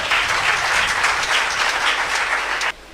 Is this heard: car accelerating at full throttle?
no